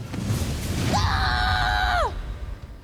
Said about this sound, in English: Scare me with your scream.